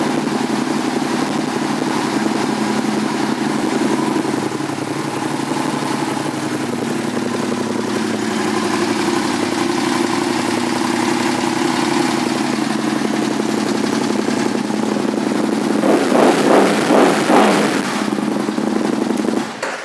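A black 2007 Aprilia Tuono 1000 motorcycle idles with a loud, steady engine drone close by, and a brief rise in revs comes near the end.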